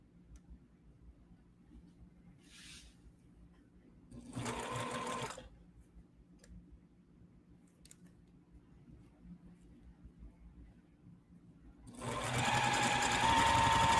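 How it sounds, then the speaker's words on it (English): Juki 2010 sewing machine stitching a quilt block, heard in two loud runs: a short burst partway through and a longer sustained run at the end, with quiet pauses and small ticks between. "Right now I'm sewing on the 2010"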